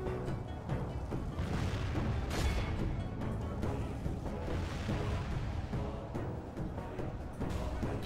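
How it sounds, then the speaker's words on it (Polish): Continuous rumbling battle din with dense booms of artillery fire from a Medieval 2 Total War battle (Stainless Steel mod), loud and sustained throughout without a clear pause. "I atakujemy go artylerię."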